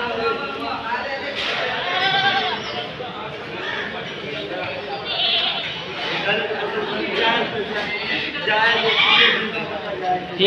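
Goats bleat repeatedly at a goat market, wavering cries rising over people chattering nearby, fairly close and loud throughout.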